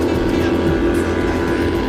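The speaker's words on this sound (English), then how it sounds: "We do love the sounds of those engines." Racing powerboat engines in a mobile regatta video game, a steady loud droning roar with a strong low hum, continuous throughout with no pauses.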